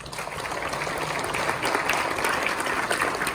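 Audience applause at a conservation forum in Nairobi, a dense, steady clapping from a large crowd that carries on throughout.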